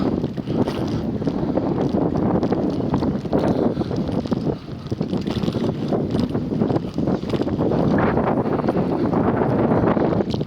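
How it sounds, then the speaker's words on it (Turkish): Strong wind buffets the microphone in continuous gusty roaring, loud and unbroken for the whole stretch, with no voices. "Rüzgar çok yoğun."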